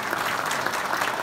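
An audience at a panel meeting in Erzurum breaks into steady, fairly loud applause, a dense uninterrupted patter of many hands with no voices over it.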